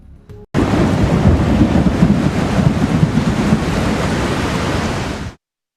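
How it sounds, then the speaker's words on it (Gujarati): Thunderstorm with torrential monsoon rain over Gujarat villages, a loud, dense, continuous roar of downpour and rumbling that starts abruptly after a brief quiet moment and holds steady before cutting off. "ગાજવીજ સાથે મુશળધાર વરસાદ ખાબક્યો"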